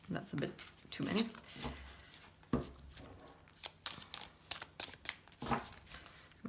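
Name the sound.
shuffling a deck of tarot cards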